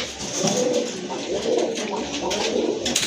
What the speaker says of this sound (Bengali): খুবই ভালো মানের এক জোড়া বোম্বাই কবুতর